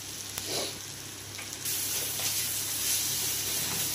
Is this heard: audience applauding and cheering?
no